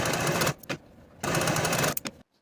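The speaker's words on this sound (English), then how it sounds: "using a zigzag stitch or your serger" Sewing machine or serger zigzag-stitching the short edges of fabric button tabs for a women's top, two bursts of fast, even needle rattle separated by brief pauses, close and moderately loud.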